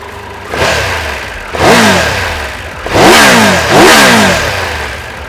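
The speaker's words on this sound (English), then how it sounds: "That's changed the sound of the engine, the feel of the engine, and the character of the engine." A 2022 Triumph Tiger 1200 three-cylinder motorcycle engine revs up sharply three or four times in quick succession, each throaty surge rising in pitch and then dropping back to idle.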